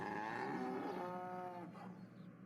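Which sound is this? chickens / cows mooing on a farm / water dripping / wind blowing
cows mooing on a farm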